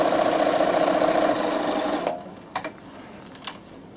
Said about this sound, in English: Yep, I'm definitely going to do a scallop.